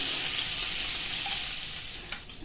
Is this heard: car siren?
no